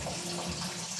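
Tap water running in a steady, loud continuous rush for a brief moment, filling the space with a broad hiss.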